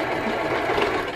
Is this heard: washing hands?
no